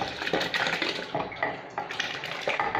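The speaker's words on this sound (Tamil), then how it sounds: "இப்போ வந்து பருப்பை ஊற்றிக்கலாம்" Thick cooked dal poured into simmering Tirunelveli idi sambar with coconut, making a close, steady stream of wet pouring and splashing with soft bubbling and a few light clinks of a pot or utensil, with no talking.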